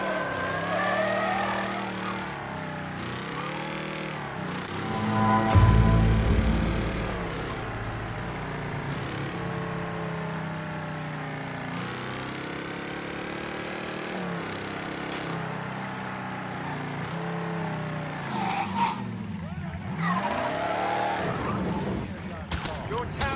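Street race cars in the Mafia 3 Definitive Edition video game revving and squealing their tires, with a louder burst of engine and skidding around the sixth second, all under steady voices talking and game music.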